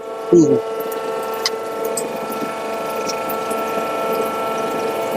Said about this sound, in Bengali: এটা হচ্ছে single cylinder single die machine ঠিক আছে অটোমেটিক মেশিন আছে এই আমি চালিয়ে দেখাচ্ছি